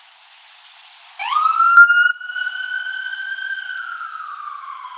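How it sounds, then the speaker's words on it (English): Emergency vehicle siren on a Portland street starts suddenly close behind, a loud rising wail that settles into a sustained tone and holds steady. "the sirens right behind me gave me a heart attack"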